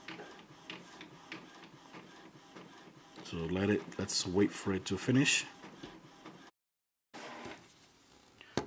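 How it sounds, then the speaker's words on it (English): A wireless printer running off a page, its mechanical whirring and feed clatter rising midway for a few seconds under nearby speech, then a brief silence before quieter background returns. "I don't know if you can hear the printer going off."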